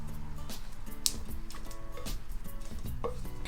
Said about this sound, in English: I'm also going to scrape all the icing down from the sides of the bowl just to ensure that everything's mixed in properly.